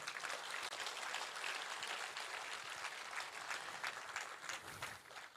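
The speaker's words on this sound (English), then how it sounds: "he deserves a bigger round of applause than that" A large audience at the India Cements 75th-anniversary event applauds the Chennai Super Kings cricket captain, a dense, steady round of clapping that lasts several seconds before easing slightly at the end.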